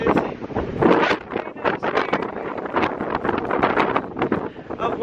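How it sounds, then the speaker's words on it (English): Strong gusty wind at a mountain lookout in Tasmania buffets the microphone in loud irregular bursts and roaring blasts, with rain and light rustling under it. "it's very windy up here"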